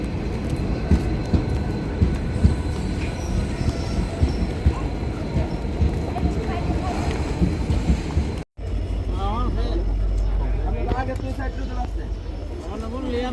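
A train rumbles steadily along its rails with a constant low roar and faint rhythmic clatter, then cuts to a quieter, smoother hum as a voice talks.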